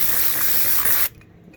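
Compressed air blasts dust off a polishing pad used on truck clear coat, a loud close hiss lasting about a second before cutting off abruptly.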